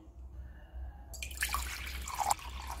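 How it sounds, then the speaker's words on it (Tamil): Water runs into a panakam drink being prepared, starting after a quiet second as a steady trickle with brief brighter splashes, close and moderately loud, with no talking. "தேவையான அளவு தண்ணி சேர்க்குறேன்"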